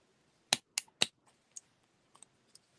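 Scissors snip a decorative tassel for a butterfly bow embellishment, giving three crisp close cuts in quick succession followed by a few fainter, lighter snips and clicks, with no talking.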